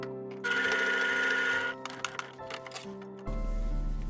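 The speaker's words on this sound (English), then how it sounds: "now I am sewing the 2 pieces of the sleeve together, just a regular seam" A sewing machine runs a regular seam joining the two pieces of a shirt sleeve, a steady close whir for about a second and a half, then scattered clicks and taps before a lower, continuous motor hum takes over.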